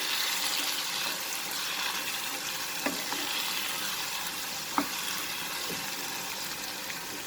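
Bottle gourd bhaji fries in a pan as it is stirred, a continuous close sizzle with occasional sharp spoon clacks against the pan.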